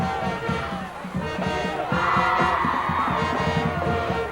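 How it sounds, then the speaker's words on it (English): Crowd cheering and yelling fills the stands at a 1995 high school football game between Penn Hills and Plum, a loud, sustained roar with rising shouts that swell midway and stay strong throughout. "Good crowd on hand tonight for the Penn Hills Indians."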